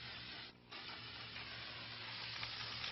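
Steady close hiss of an aerosol can spraying pecan stain, with one brief pause early before spraying resumes continuously.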